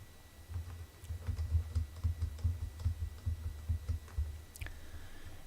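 Ctrl+D is pressed repeatedly on a computer keyboard, a steady run of soft, close key clicks at an even rhythm, quiet and alone with no talking.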